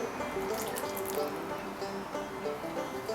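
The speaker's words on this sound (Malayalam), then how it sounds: "നമ്മൾ ജ്യൂസ് ഉണ്ടാക്കിയത് ഈ നമ്മൾ ആദ്യം റെഡിയാക്കി വെച്ചതിലേക്ക് ഒഴിക്കുക." Freshly squeezed orange juice is poured into a prepared Moroccan cake mixture, giving a quiet, continuous liquid trickle with light splashing that lasts about three seconds.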